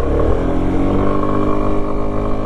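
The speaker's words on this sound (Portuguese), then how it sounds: "era para vocês ouvirem isto a arrancar o barulho do escape" Sym Cruisym 300 scooter pulling away with its exhaust droning loud and close, a steady engine note rising slightly as it accelerates, with wind noise underneath.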